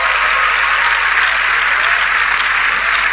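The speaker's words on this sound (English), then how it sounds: "That calls for a clap." A church congregation breaks into loud, dense applause at a career presentation, a continuous wash of many hands clapping together that stays steady and full for the whole stretch.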